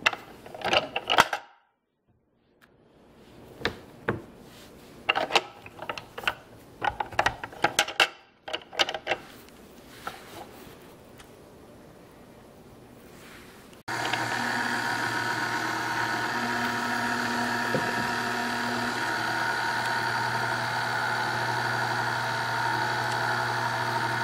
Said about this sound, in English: So I have my little KitchenAid mixer here. And I have the cheese grater attachment.